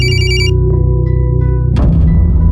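A telephone rings in a short burst at the start during a call, then gives way to a low sustained drone and a louder rumbling swell.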